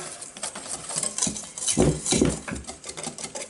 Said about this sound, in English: we're going to mix that nicely together with a whisk, like this